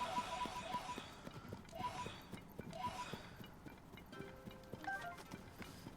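Horse hooves clopping in the video game Tears of the Kingdom, a steady repeated galloping beat under game music and ambience, with quieter tonal effects toward the end.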